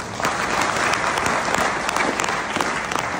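A seated audience at a gathering claps loudly and continuously, a thick, even roar of many hands with no break throughout.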